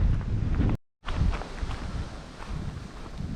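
Strong wind gusts past a pond, roaring and buffeting the microphone in a continuous rush, with faint footsteps and a brief dropout near the start.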